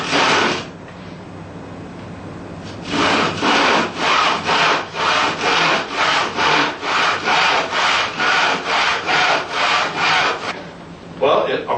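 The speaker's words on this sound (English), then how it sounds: "Well, are we done with the sawing now?" A hand saw cuts through wood in a steady run of about fifteen rhythmic back-and-forth strokes, close and fairly loud, after a brief rasping start and a short pause.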